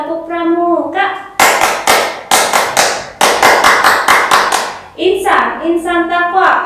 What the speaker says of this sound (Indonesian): kita tepuk pramuka dulu ya. Tepuk pramuka.